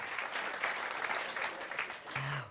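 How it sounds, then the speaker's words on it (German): Applause from a cabaret festival audience at a stand-up show in Stuttgart, moderately distant and even, with a brief tonal hum near the end. "Fantastisch, ein Applaus."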